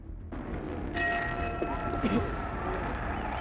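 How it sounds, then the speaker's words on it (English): A boxing bell rings to open round one of a heavyweight title fight between Muhammad Ali and Terrell, its sustained metallic tone sounding once over the steady roar of the arena crowd. "The bell for round one."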